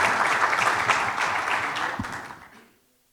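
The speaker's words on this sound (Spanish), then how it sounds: "Gracias, un aplauso para todos." Audience applause for panel participants at a democracy forum, a lively round of clapping that holds steady, then tapers and fades out into silence.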